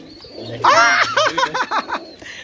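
Racer pigeons coo nearby in a loft with eggs and a baby chick, a few soft, rolling throaty coos close to the listener over a quiet background.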